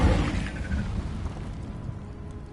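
An Incendio fire spell is cast in Hogwarts Legacy, a loud burst of roaring flame that hits at once and then fades into a rumbling whoosh.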